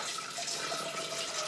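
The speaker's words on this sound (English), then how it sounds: "in a big pot I'm turning on the gas and putting a 2 cups of water" About two cups of water pour into a big pot set over a gas stove, a steady close rushing splash that runs on unbroken with no voices.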